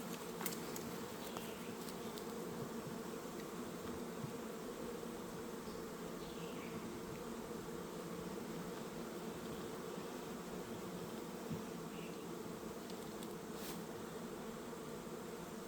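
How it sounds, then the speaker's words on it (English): Thousands of honey bees drone steadily inside an open hive during a spring inspection, a dense, continuous buzz at close range with no talk over it. "Thousands and thousands of bees in here."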